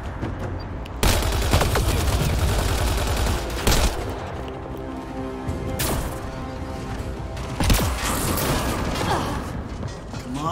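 Automated turret gunfire in Mass Effect Andromeda, loud sustained bursts of mechanical rapid fire with clanking, rattling mechanisms, cutting in and out in several long volleys over steady background game noise.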